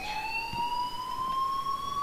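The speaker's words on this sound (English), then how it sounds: "please turn off that alarm since that's your job" In Life Is Strange, an alarm sounds as a steady, slowly rising electronic tone that holds unbroken throughout.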